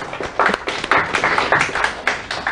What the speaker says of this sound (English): Well, a round of applause for Mod WSGI